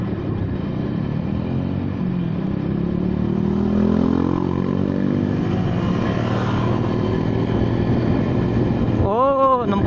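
A Honda Vario 125 injection scooter rides at speed, giving a loud, steady engine drone mixed with wind rush, while someone talks over it.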